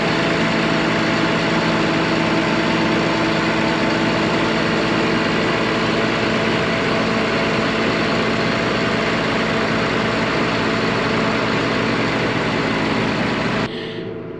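An engine that has sat all winter idles steadily with a low, even rumble, loud and close. It runs unbroken with no voices, then cuts off abruptly near the end.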